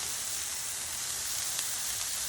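Smashburger patties seasoned with garlic, pepper, onion powder and salt sizzle on a griddle, giving a steady, dense hiss of frying that stays even from start to finish.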